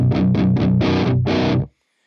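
An electric guitar plays through an Orange Micro Dark amp with every knob at noon, giving a crunchy distorted tone: four quick chord stabs, then one longer held chord that cuts off into silence.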